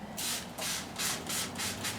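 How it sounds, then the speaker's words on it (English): Spray bottle misting water onto a clay cookie jar during pottery decorating, with about six quick hissing bursts in a steady rhythm, close and clear with no talking. "I'm going to spray this off to the side here, not to freak her out."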